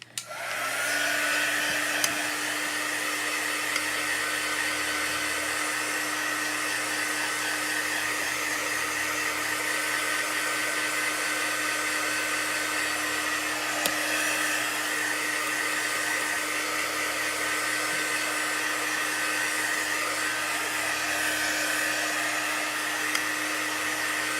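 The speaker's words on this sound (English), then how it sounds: "I'm just going to run the dryer over this" A hair dryer blows steadily and loudly for the whole stretch, a constant whooshing hum with no talking.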